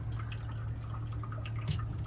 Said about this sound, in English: And that right here, you're hearing is this drain.